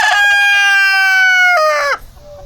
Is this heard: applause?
no